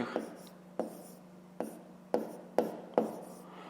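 Chalk or marker writing fractions on a board during a fifth-grade maths lesson, a series of about six short scratchy strokes in uneven rhythm over a low steady hum, close and fairly quiet.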